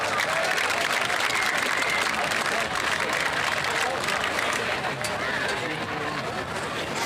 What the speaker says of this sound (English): Let's give all our Cyclone senior athletes one more round of applause